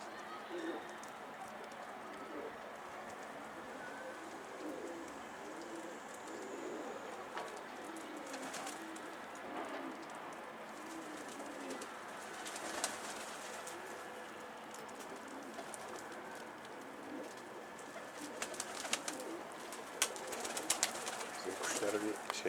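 Pigeons coo softly on a rooftop, low repeated burbling calls at a moderate distance with faint wing flutters, while people talk quietly in the background.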